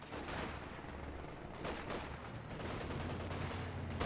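Infantry battle in Company of Heroes 2, with dense bursts of rifle and machine-gun fire crackling back and forth, some near and some farther off, under a constant rumbling din.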